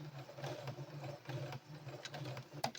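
A sewing machine stitches a back stitch on a satin bonnet, giving a steady, close mechanical whir with a rhythmic low hum and brief clicks, heard alone without talk.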